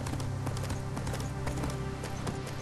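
Horse hooves galloping in the video game Fist of the North Star: Ken's Rage, a rapid, regular clip-clop that repeats steadily throughout the short stretch, close and clear.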